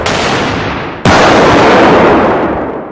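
Two hundred meters of Semtex-maker detonating cord exploding outdoors: a loud, sustained roaring blast, then a sudden sharper crack that restarts the roar, which slowly fades.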